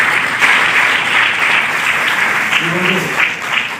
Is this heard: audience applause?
yes